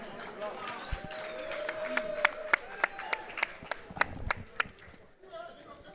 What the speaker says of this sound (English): let's have a nice round of applause for both fighters, please